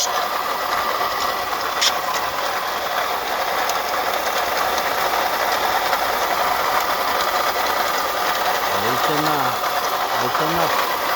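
The 2004 Toyota Camry engine idles with a steady, busy mechanical whir and rattle, close and constant throughout, and a voice is heard faintly near the end.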